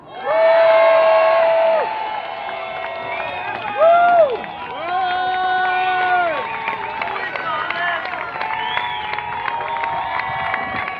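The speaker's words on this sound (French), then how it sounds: "Excellent, on l'applaudit bien fort." A crowd cheers and whoops for a speaker at an outdoor Quebec freedom rally, loud sustained voices rising at the start, a brief louder burst, then ongoing cheering with scattered clapping beneath.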